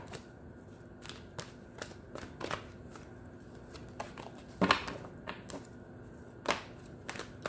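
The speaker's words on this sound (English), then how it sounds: "The cards don't want to shuffle." Tarot cards are shuffled in a series of crisp riffling bursts at an irregular pace, fairly close and quiet, with a couple of sharper slaps.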